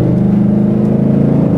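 A Ford Mustang GT with the 5.0 engine drones at steady revs while driving, a loud, close, throaty rumble holding an even pitch with a slight rise near the end, and no voices.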